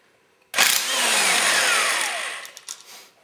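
A pneumatic impact wrench with a 14mm impact socket rattles loose the starter clutch nut on a 1996 Yamaha YZF600 engine, a loud close burst of about two seconds that ends in a few short stuttering hits.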